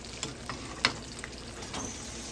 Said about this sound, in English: You're frying in some oil.